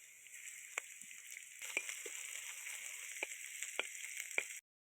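Potatoes fry in mustard oil with a little ginger paste added, giving a steady, faint sizzle with a few sharp spatters and light scrapes. No one talks over it, and the sound cuts off abruptly just before the end.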